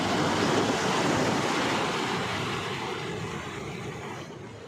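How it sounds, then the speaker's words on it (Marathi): Sea waves at high tide on the Dapoli coast in rain roar as a continuous, loud rush of surf that eases slightly toward the end. "आज समुद्र मस्त असा लाटांनी भरलेला येतो आहे"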